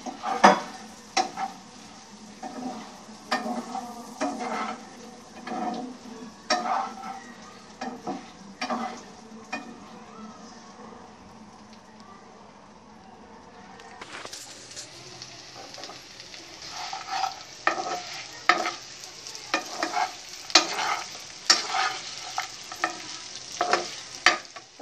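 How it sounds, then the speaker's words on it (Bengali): Puti fish frying in a pan with dried chili powder and roasted cumin powder, sizzling steadily while a utensil stirs and scrapes it in frequent clicking strokes, close up, with no talking. "এখন আমি মাছটা দিয়ে একটু নেড়ে ছেড়ে নিব।"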